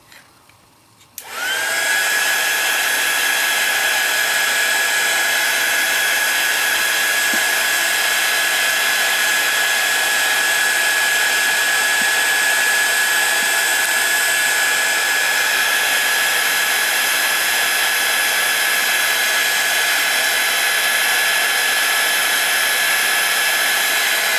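A hair dryer blows steadily on an ATC card being dried, starting abruptly after a brief quiet moment and then running loud and constant with a high, even whine throughout.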